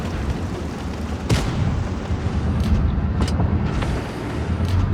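Heavy booms from an M6 tank's gun firing in WoT Blitz cut sharply through a constant low engine rumble, with a few distinct blasts spread across the moment.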